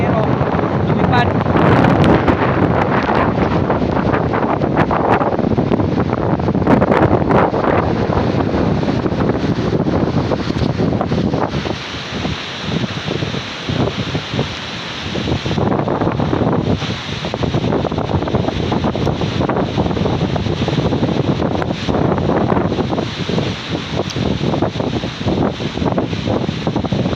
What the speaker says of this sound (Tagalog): Magsana po rito yung ulan at hangin.